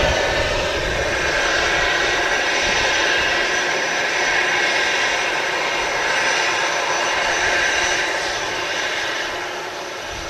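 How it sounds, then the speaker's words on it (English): An Aer Lingus Airbus A320 arrives at Manchester Airport with a loud, sustained jet roar and whine that holds steady before easing slightly at the end. "Aer Lingus in the classic colours, an A320"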